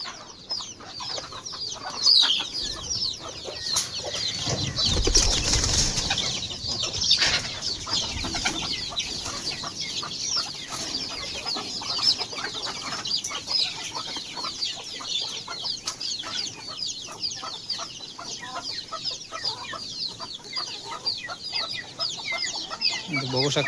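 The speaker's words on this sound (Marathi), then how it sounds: "चला आता आपल्या कोंबड्या सोड बाहेर." Free-range country chickens cluck and squawk after being let out of their coop on a farm, a busy, overlapping flock chatter that stays close and loud throughout, with a few louder calls and some wing flapping early on.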